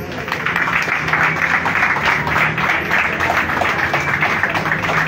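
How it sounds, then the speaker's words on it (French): A crowd at a campaign launch event for legislative elections applauds a candidate's arrival, with loud, sustained clapping that stays dense and even across the whole stretch. "Je vous demande d'applaudir l'arrivée de M. Fortuné Edou, s'il vous plaît."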